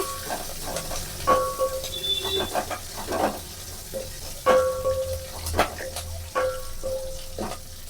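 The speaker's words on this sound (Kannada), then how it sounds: "ಇವಾಗ ನಾನು ಖಾರಕ್ಕೆ ಸ್ವಲ್ಪ ನಾಲ್ಕರಿಂದ ಐದು ಹಸಿಮಿರ್ಕಾಯಿ ಹಾಕೋತಾ ಇದ್ದೀನಿ" Green chillies, four or five of them, frying in a pan for a Karnataka-style majjige huli, with a steady sizzle broken by repeated scrapes and stirs of a spoon, plus a few brief clinks; no voices.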